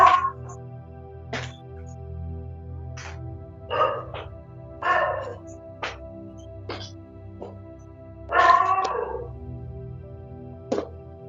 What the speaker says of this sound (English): there is barking dogs. I there. Dogs are barking.